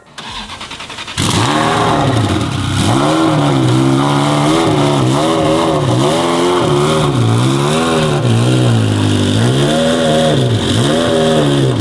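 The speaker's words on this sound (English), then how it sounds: "Fired it up for the first time in 10 months." A car engine cranks and fires after sitting unused for ten months, then settles into a loud, close idle with repeated throttle blips rising and falling.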